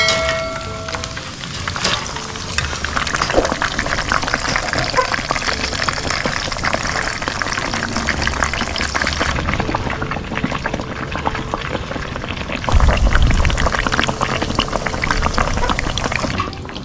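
Lechon kawali pork fries in hot oil, a loud, steady bubbling hiss that runs continuously, briefly dipping and shifting partway through before surging back close and strong.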